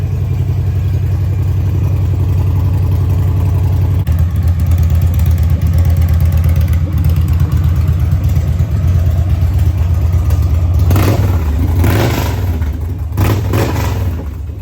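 A 2003 Victory Vegas VFXRT motorcycle engine, muffler removed, runs loud and close with a deep, steady rumble that swells briefly near the end as the throttle is blipped.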